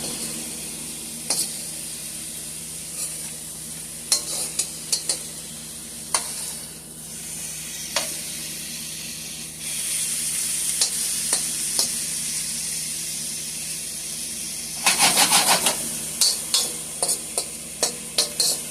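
Ground turkey meatballs sizzle steadily in an electric stir fryer, with a constant frying hiss and scattered scrapes and clacks of a utensil turning them. A louder burst of spatula clatter comes near the end.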